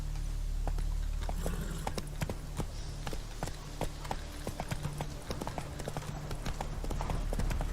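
In The Witcher 3, the horse Roach's hooves clip-clop steadily in a brisk, even rhythm, close and clear over a low ambient drone.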